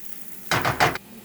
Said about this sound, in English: we're gonna give this a little stir